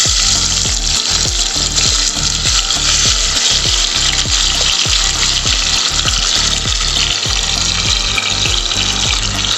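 Bitter gourd, salted and coated in turmeric, frying in hot mustard oil: a loud, steady sizzle runs throughout, with repeated soft knocks and scrapes of stirring mixed in.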